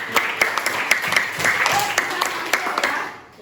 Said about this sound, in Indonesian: Iya, tepuk tangan juga ya.